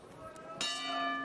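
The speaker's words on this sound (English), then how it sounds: "There goes the bell." A boxing ring bell clangs once to open round one of a bout, ringing bright and sustained over crowd noise with commentary talk underneath.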